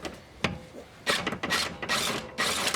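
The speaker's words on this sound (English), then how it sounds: "Two bolts in there, so I'm gonna be tightening it down." Bolts on a rear camber arm of an Acura RSX Type S being tightened with a ratchet, quiet close clicking bursts and scraping strokes in short spurts, no talk.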